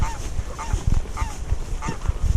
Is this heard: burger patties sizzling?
no